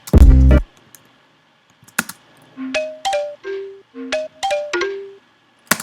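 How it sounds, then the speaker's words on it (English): Synth stabs and tones rhythmically ducking in volume every half note in a hip-hop beat, after a loud low hit, with pulses swelling back in clearly and no voices. "So you can kind of hear that it's kind of like ducking out every half note."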